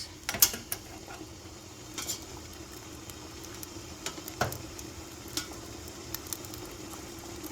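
Beet greens frying in bacon fat in a pan, a low steady sizzle broken by scattered clicks and taps of a utensil moving them about; fairly quiet and close, no talking.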